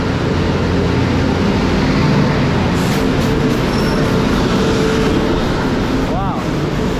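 An Agra to Delhi express train arrives at a station, and its loud, continuous rumble and clatter fill the scene while voices can be heard around it.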